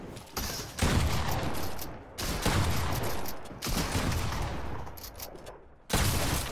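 Fortnite gunfire comes in sustained, loud bursts of rapid shots, broken by brief pauses, with a final burst after a short gap; it stays close and dominant throughout.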